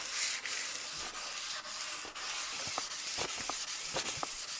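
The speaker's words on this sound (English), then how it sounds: "Now we're going to start hand sanding again" Steady scratchy rubbing of sandpaper worked back and forth by hand on a cane sword, close up, with short rhythmic strokes and no talking.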